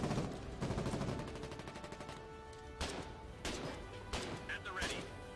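Gunfire in the war game Foxhole: a dense burst of shots at the start, then several separate heavy reports spaced about a second apart, under ongoing voice chat.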